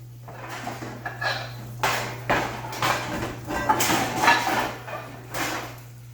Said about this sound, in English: I'm going to take out my skillet.